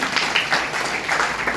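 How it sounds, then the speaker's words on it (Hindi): An audience claps for a student, a short and fairly loud burst of applause with uneven, overlapping claps. "एक बार तो आप उन्हें ताली बजाओ।"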